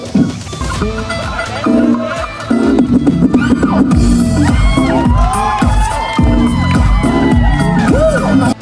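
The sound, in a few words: wedding sangeet crowd clapping and cheering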